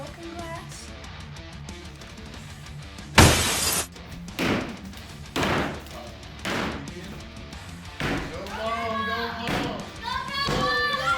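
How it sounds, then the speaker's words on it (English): Glass shatters loudly in a sharp burst during a DIY home demolition, followed by several heavy thuds and crashes of debris, with children's voices chattering and calling out between and over the impacts. "Broken glass."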